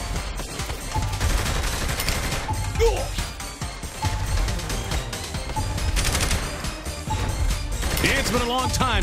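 In the video game Saints Row: The Third, rapid gunfire and crashing impacts rattle continuously, with dense bursts and clanks layered with game noise and voices throughout.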